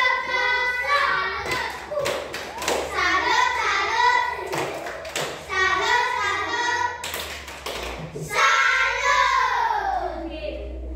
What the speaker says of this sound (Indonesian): tepuk salut untuk kalian